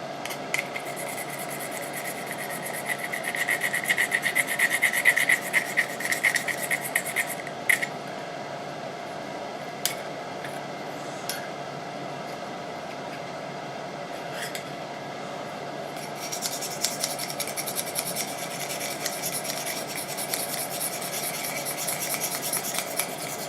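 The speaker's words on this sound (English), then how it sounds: "let me just go and stone these rough edges off" A metal rod, the drawbar of a milling machine, has its rough edges stoned by hand, giving steady scraping and rubbing strokes with a few sharp clicks, close and continuous for over twenty seconds without talk.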